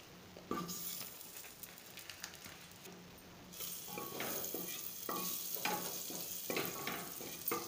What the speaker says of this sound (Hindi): सो मैं डाल रही हूँ बटर।